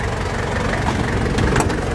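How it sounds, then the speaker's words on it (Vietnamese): Ford Ranger diesel engine with two-wheel-axle drive idling, a steady close low rumble with even knocking pulses and no noticeable revving. "rất êm, anh chị nghe cái tiếng máy không."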